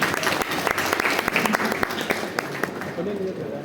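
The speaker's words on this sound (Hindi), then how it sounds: "एक बार आप अपने लिए जोरदार तालियां।" Audience applause at a university gathering at HNBGU, steady clapping from a crowd with scattered sharper claps, continuing for several seconds as the speaker invites it.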